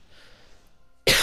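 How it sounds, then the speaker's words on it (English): A single sharp, loud cough bursts out near the end, after about a second of faint room noise. "mute out that cough"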